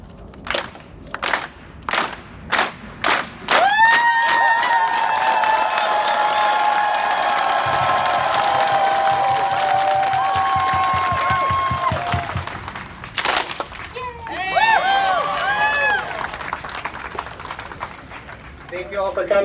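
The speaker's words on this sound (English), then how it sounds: "we're gonna go loud, and you can yell and scream, and then we're gonna finish up with one clap" At a political rally, a crowd claps in several sharp bursts, then erupts into loud, sustained yelling and screaming, and ends with a single unified clap followed by scattered cheering and chatter.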